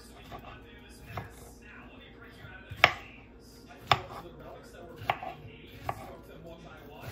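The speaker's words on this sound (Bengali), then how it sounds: "একদম কড়কড় করে আওয়াজ হচ্ছে।" A knife cuts through crunchy strawberries on a board, giving sharp, crisp chops at irregular intervals, close and clear, with quiet talk in the background.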